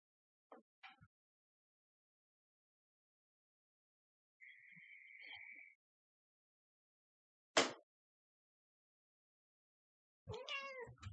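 A house cat meows quietly several times during a calm yoga session indoors, with short separate calls scattered among long silences and a longer wavering meow at the end.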